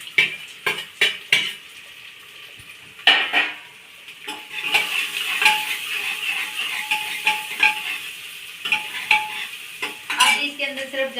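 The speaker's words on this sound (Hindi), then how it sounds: "ये डाल दी मैंने प्याज।" Chopped onion tipped into a frying pan with already-cooked chillies and garlic, a steady sizzle running underneath as a ladle scrapes and clinks against the pan in repeated close stirring strokes.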